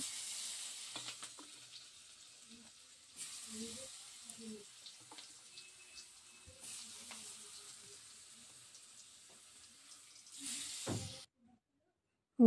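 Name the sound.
potatoes with turmeric and salt frying in oil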